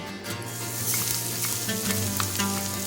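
Finely chopped garlic fries in hot oil with a loud, dense, continuous sizzle close by, no voices over it.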